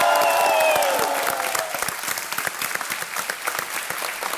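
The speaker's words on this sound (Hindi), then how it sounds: "एक बार फिर तालियां हो जाए शिल्पा जी के लिए" Steady applause from a television quiz show studio audience, dense hand clapping heard alone, loud at first with a music sting fading out, then thinning slightly while continuing.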